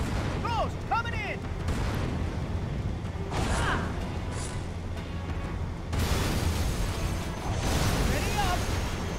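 Explosions and gunfire in the video game Halo 2, with several booming blasts and rattling mechanical noise in a dense, loud battle mix. Whistling, sweeping effects pass over it and faint game voices sit underneath.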